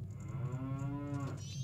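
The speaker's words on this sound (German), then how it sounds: "Eine Kuh." A cow moos in the video game Majora's Mask 3D, one drawn-out lowing call that swells and fades, alone over a quiet game backdrop.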